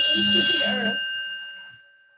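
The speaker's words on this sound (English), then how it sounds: "So we're beginning with the sound of the bell" A bell rung to open a yoga session gives one clear, bright strike whose ringing tone slowly fades over about two seconds. A voice talks softly beneath the first second.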